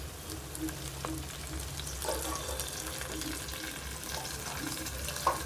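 Onions and curry leaves frying in oil for a village-style Nellore fish curry make a soft, steady sizzle close by, with a few faint clinks and one sharp tap near the end.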